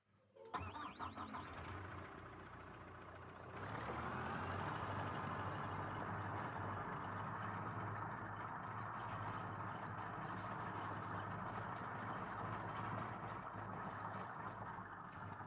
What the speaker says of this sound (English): Okay, that's Dad's truck.